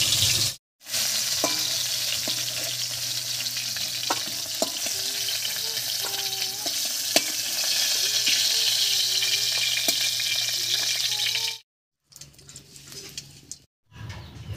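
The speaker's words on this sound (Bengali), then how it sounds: "মাছগুলো উল্টে পাল্টে বেশ লাল করে ভেজে নিয়েছি" Fish frying in hot oil in a home kitchen, a loud continuous sizzle with faint bird coos and chirps in the background, interrupted by two brief silences near the end.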